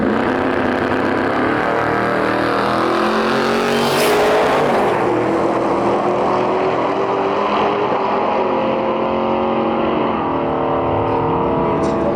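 A Cadillac CTS-V with a Blueprint engine launches down a drag strip beside another car, a loud sustained engine roar rising through the run with a burst of acceleration noise midway, continuous and close throughout.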